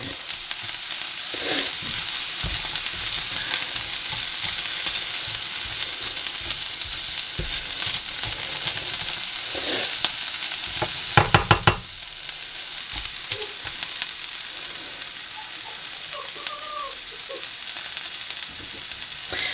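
Onion softens in a hot pan for egg fried rice, giving a steady, close sizzle that runs throughout, broken by a brief clatter of stirring partway through.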